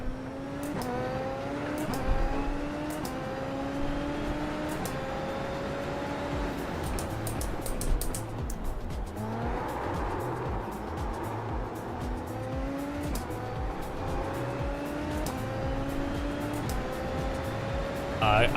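Super Formula open-wheel race car in the iRacing sim, engine revving up and shifting through gears in repeated rising sweeps, with occasional tire squeal and a player talking over it.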